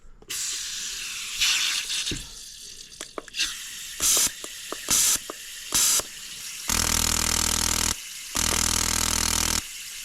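An aerosol can hisses in several bursts, some short and a few long steady sprays, close by with brief pauses between, while working on a 2003 Sea-Doo GTI personal watercraft.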